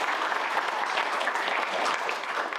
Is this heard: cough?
no